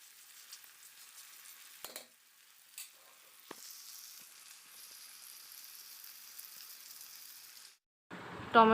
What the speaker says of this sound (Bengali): টমেটোটা দিয়ে আবার একটু ভালো করে ভেজে নিচ্ছি টমেটো